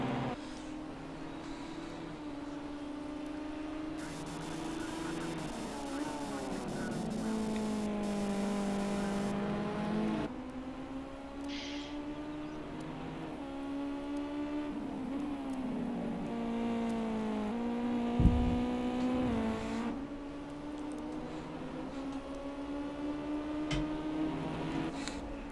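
Race cars circulate on a track in the racing video game Gran Turismo 5, a steady engine drone that rises and falls with gear changes as cars pass, continuous and moderately loud with no talk.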